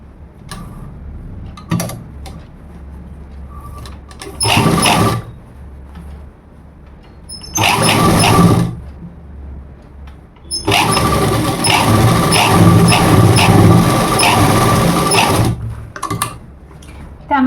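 A sewing machine stitching a blouse runs in bursts, short whirring runs and then a long steady stretch of rapid mechanical clatter, loud and close, with quiet pauses between.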